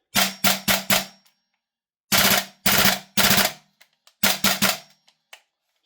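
A Guns Modify Scar-L MWS gas blowback airsoft rifle fires three loud, close bursts of about four sharp cracks each, separated by short silences, with a few faint clicks afterward.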